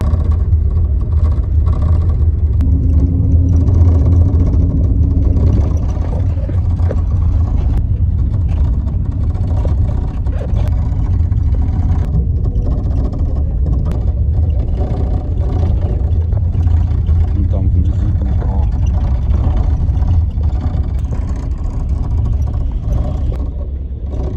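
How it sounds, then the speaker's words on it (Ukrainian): A marshrutka minibus travels along a road near Rzhyshchiv, Ukraine. Its engine and road noise form a loud, steady, close rumble that holds for the whole stretch without a break. "А ось і їде моя маршрутка."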